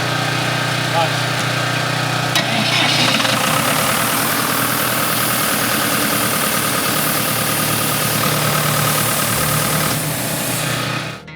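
A Cummins diesel engine fitted with an extra turbo runs steadily on a gold dredge in the Bering Sea, a loud continuous rumble with a whining, hissing top that holds for the whole stretch, with no talk over it.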